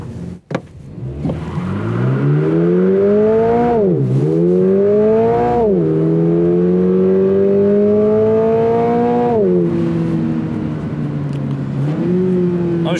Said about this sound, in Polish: jestem ciekaw, jak ten samochód przyspieszyłby, gdybym go troszeczkę krócej przytrzymał.